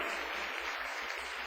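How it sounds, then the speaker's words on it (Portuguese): Church congregation applauding steadily after a sermon, a continuous wash of clapping with a low rhythmic hum beneath, no voices over it. "Glória a Deus, continue aplaudindo."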